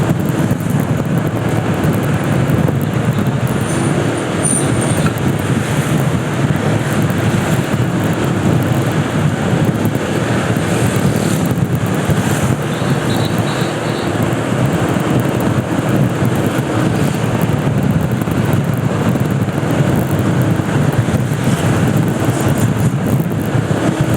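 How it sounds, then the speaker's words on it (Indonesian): Steady wind blows hard across an open outdoor area, a continuous roaring rush with low rumbling gusts that holds through the whole stretch and carries no voices. "Angin yang bertiup"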